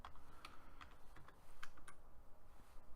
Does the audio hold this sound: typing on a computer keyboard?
yes